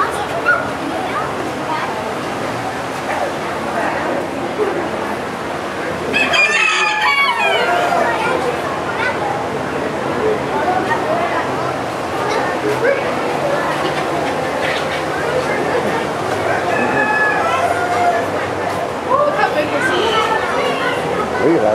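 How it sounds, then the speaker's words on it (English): Many roosters crowing in a crowded barn at a county fair poultry show, overlapping calls near and far throughout, with a dog barking and people talking in the background. "Oh, a lot of roosters in here."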